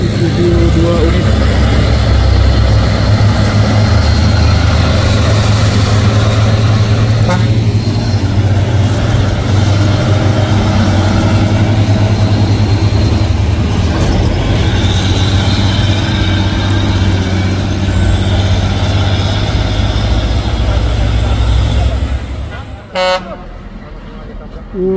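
Isuzu 6x4 tanker and box trucks climbing Bukit Kodok, a loud, steady diesel engine drone with a low rumble throughout and a brief horn toot near the end.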